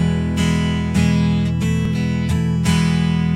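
Dry electric guitar signal from a Line 6 Helix modeler, a sustained chord with several re-struck attacks, steady and loud, with no effects and no voices.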